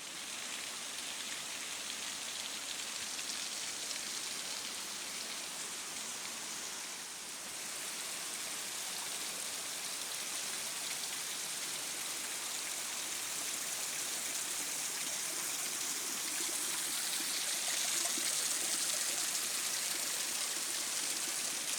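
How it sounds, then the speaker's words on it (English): A mountain stream and waterfall in the Valley of the Waters, Blue Mountains, Australia, rush with a steady, broad, hissing flow that stays continuous and fairly close throughout, with no talking. "we'd never be far from a running stream for the rest of the day."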